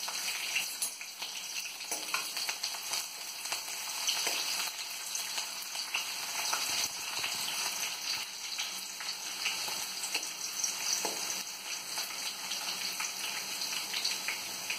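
Garlic and ginger fry in a pan while Kathiyavadi sev tameta is cooked, giving a steady close sizzle with faint stirring scrapes, without any talk.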